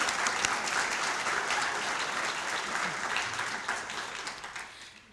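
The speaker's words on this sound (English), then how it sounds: "let's give another round of applause for those police department employees" A crowd at a city employee service awards ceremony claps for police department employees, steady and fairly distant, with the applause thinning and fading toward the end.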